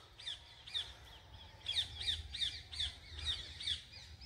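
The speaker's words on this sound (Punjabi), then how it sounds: "ਤੋਤੇ ਦੀ ਆਵਾਜ਼ਾਂ ਆਉਣੀਆਂ ਵਿੱਚੋਂ" Parrots squawk repeatedly in open countryside, several harsh calls in a loose rhythm at moderate distance, with a low rumble of wind or traffic underneath.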